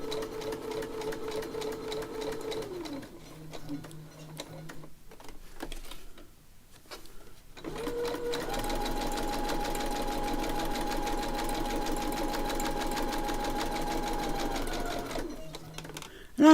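A sewing machine stitches through paper pages for a junk journal in two bursts of rapid, whirring runs separated by short pauses, close and fairly loud, with a voice speaking between and around the runs.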